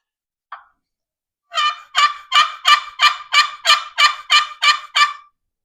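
Wooden box call imitating a wild turkey: one short opening yelp, then a rhythmic run of about ten loud, raspy yelps in even succession, close and clear against silence.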